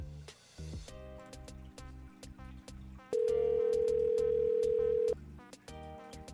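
An outgoing phone call rings back with a steady electronic tone that sounds for about two seconds over a soft background music bed, with no talk.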